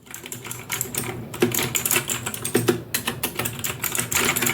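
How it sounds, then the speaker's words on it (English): Typing on an R8 1035 computer keyboard: rapid, close, continuous key clicks in uneven bursts with brief pauses. "this keyboard has a quite great feel and you can just listen the sound"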